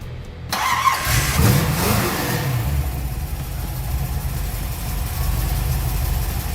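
A Chevy small-block V8 in a Porsche 944 race car built for 24 Hours of Lemons cranks briefly, catches with a loud burst, then settles into a steady, close, deep rumbling idle, with no talking.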